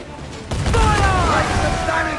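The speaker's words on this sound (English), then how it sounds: "They are firing, sir!" Cannon fire between sailing ships in Assassin's Creed 4 Black Flag, a heavy booming volley that hits suddenly and rumbles on, with shouting crew voices over the din.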